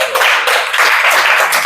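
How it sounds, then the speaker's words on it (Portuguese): A church audience applauds during a Portuguese-language theology lesson, loud sustained clapping filling the whole stretch with no pauses. "Aplauda Jesus, é demais"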